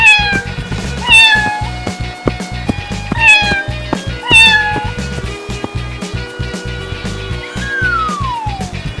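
A cat meows loudly and repeatedly in close, rising and falling cries over a steady rhythmic backing of music, with a long sliding wail near the end.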